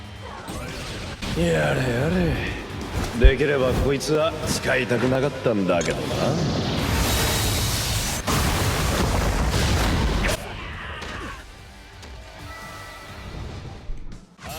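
A Soul Bomb attack animation plays in the Bleach Brave Souls mobile game, with dense bursts of booms, crashes, whooshes and chiming effects under music, a voiced battle cry, then a quieter tail.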